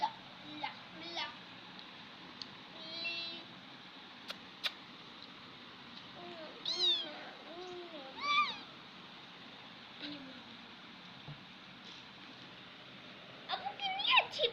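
A cat meows several times in short rising calls, close and fairly faint, with a voice and light household noise around it.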